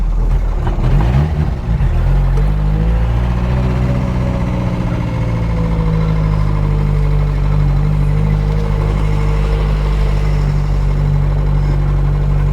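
A Chevy Luv pickup's small engine runs steadily while the truck drives, a loud continuous low drone with slight pitch shifts as it moves along, no talking over it.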